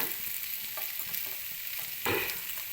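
Sliced okra stir-frying in a pan for a Karnataka-style okra palya, a steady close sizzle with stirring scrapes and a brief louder burst near the end, no voices.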